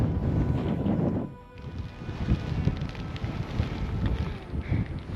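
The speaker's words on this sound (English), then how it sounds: "it's unbelievably windy and very, very cold" Loud, steady wind roaring and buffeting the microphone, with a brief lull before gusts return.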